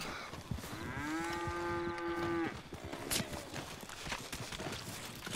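Cattle mooing in Red Dead Online, one long clear low moo up close, set against hoof clip-clop and outdoor game ambience, with faint background noise afterwards.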